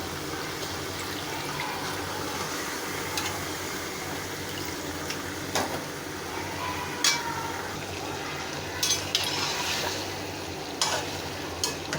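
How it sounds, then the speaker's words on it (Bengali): Chicken skin stirred in a wok over boiled potato, a steady close hiss of cooking with scraping and clinking spatula strokes through the twelve seconds. "চামড়াটা একটু নাড়াচাড়া করে দিব, তারপর এঁকে দিব।"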